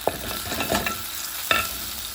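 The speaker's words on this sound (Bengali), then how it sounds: "এইটা আমি এখন ভুনা করবো, চিংড়ি ভুনা করবো" Shrimp fry in a hot pan for a potato curry, giving a steady close sizzle broken by a few sharp scrapes and clacks of stirring.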